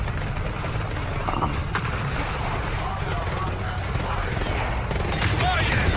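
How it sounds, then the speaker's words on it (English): Sustained salvo of gunfire in the video game Gears of War 4, a dense continuous barrage of shots rolling loudly throughout with game ambience, while someone talks over it. "That's a salvo, all right."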